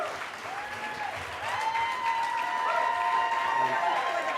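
A crowd claps for a stand-up performer, a dense, continuous patter that grows louder midway and keeps going, with a whoop or two rising above it.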